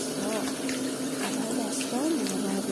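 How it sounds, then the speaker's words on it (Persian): Tap water running for washing up at a sink, a steady close rushing flow that lasts throughout, with a voice speaking faintly over it. "خب بریم یکم آب بزنیم اول"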